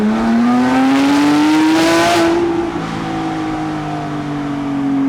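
Modified Porsche 997 GT3 with a 600HP DeMan 4.5L flat-six accelerating hard, a loud rising engine howl climbing through the revs, then a brief dip and steady drone, close and dominant with no talk.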